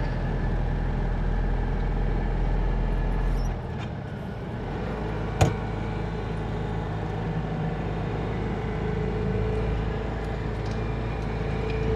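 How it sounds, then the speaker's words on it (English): A Citroen 2CV and a Land Rover lap the Silverstone circuit: a steady, close engine drone runs throughout, dipping briefly partway through, with one sharp knock near the middle and no voices. "2CV versus Land Rover."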